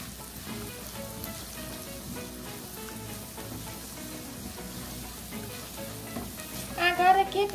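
Green herbs (cheiro verde) stirred into a sizzling frying pan while making farofa de flocão: steady, dense frying crackle throughout, with louder scraping and stirring bursts toward the end.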